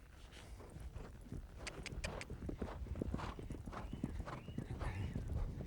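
A horse's hooves clip-clop on a show jumping course during a horsemanship training session, with quick, rhythmic hoofbeats that grow steadily louder and closer over several seconds.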